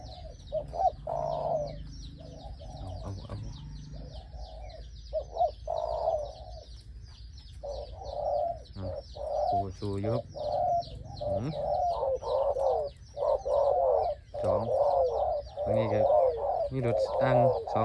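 Birds call at a birdwatching hide in Khao Yai, with steady pigeon or dove cooing repeated throughout alongside higher chirps and tweets, while people talk quietly in the background.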